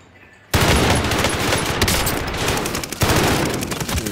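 Video game gunfire, loud and near, breaking out suddenly after a quiet moment into sustained rapid automatic bursts with a dense crackling roar, a fresh heavy volley surging in near the end; no voices.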